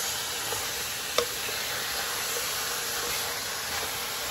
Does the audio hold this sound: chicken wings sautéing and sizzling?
yes